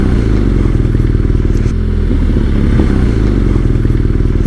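BMW R nineT Scrambler 2020 boxer-twin motorcycle rumbling steadily with a low, rapid, uneven plodding beat as the throttle is rolled off, loud and close, with no talk over it.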